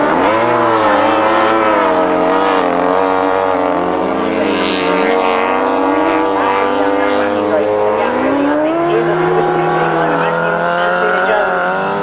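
Grasstrack racing motorcycles roar loudly and continuously on the last lap of a 1993 meeting, engine pitches rising and falling as they pass, with commentary speech over the top.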